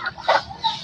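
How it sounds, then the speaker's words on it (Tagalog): A chicken gives a couple of short, throaty clucks, close and moderately loud, over light background noise. "Kaya kinsa ng manok to"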